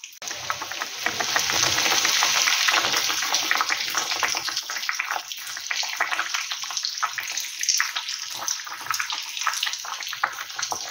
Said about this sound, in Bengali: ঝোলটা ফুটতেও শুরু করে দিয়েছে